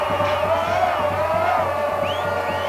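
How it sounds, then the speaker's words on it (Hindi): Dense crowd celebrating in the packed streets of Jerusalem, a continuous roar of cheering voices and whoops with a rising whistle-like cry near the end. "राजधानी यरूशलेम की सड़कों पर लोगों की भीड़ ऐसी उमड़ी कि वहां पैर रखने तक की जगह नहीं बची"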